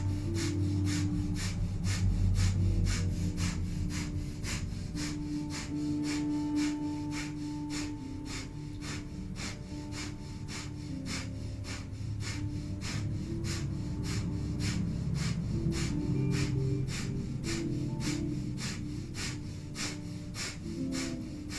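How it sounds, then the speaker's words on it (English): Breath of fire in a Kundalini yoga set: rapid, powerful panting breaths through the nose in an even, quick rhythm for the whole stretch, with soft background music underneath. "get ready to begin breath of fire for the next minute here. So panting like a dog through the nose"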